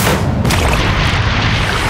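Loud, sustained explosion boom for an exploding restaurant toilet at a famous American donut shop, a deep rumbling blast that fills the whole two seconds with no speech over it.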